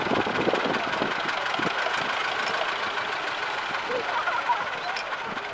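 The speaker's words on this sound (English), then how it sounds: "This is a nice little tractor." A 1979 David Brown 885 tractor engine idles with a steady, chugging mechanical rumble, up close and continuous, with faint voices in the background at a vintage tractor rally.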